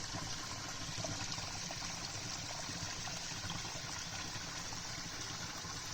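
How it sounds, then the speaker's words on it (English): Mountain stream water trickling and running beneath grass, a soft steady babble with no distinct splashes, faint and continuous throughout with no voices. "here you can hear a little bit of the water running"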